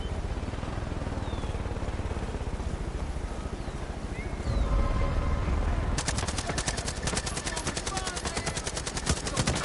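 Assault rifle fire in the Far Cry 5 video game, a continuous stream of rapid shots over wind-like rumble, with a faster, sharper rattling burst taking over in the last few seconds.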